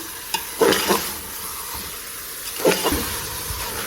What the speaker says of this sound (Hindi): ऊँट का गोश्त हमने ऐड कर लिया है। अब हम इसे अच्छी तरह से मिक्स करेंगे।